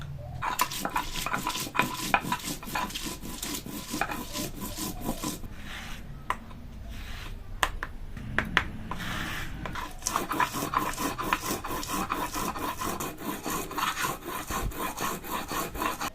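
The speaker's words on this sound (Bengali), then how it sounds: "আগে থেকেই শুকনো লঙ্কা ভিজিয়ে রেখেছিলাম, এটা বেটে নিব।" Soaked dried red chillies ground into a paste by hand, a steady rhythmic rubbing and scraping that repeats in close, even strokes for the whole stretch.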